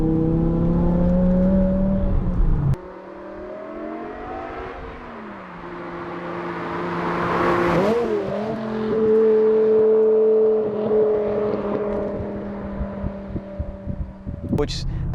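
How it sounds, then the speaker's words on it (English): BMW E60 M5 with V10 engine and 6-speed manual gearbox driving, a steady engine drone with rising and falling revs and a gear change, heard from inside the car with people talking over it. "Wow, that V10 stops this car when you're on compression strokes."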